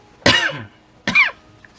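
Two sharp, close coughs from one person, a short gap between them, in a quiet indoor room during a crochet session.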